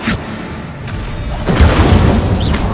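An Incendio fire spell from Hogwarts Legacy bursts out as a sudden whooshing blast that swells and roars for a moment, loud and close.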